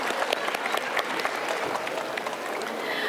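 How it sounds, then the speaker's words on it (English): A school annual day audience applauds the parents, a steady wash of many hands clapping with some distinct nearby claps, moderately loud and continuous throughout. "A big round of applause for all our parents."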